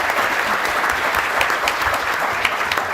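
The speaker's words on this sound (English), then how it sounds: "I would like to invite you to join in a round of applause for all the ones who have been working to organize this Congress" A conference audience gives the congress organizers a round of applause, with many hands clapping in a steady, full-room roar that continues throughout.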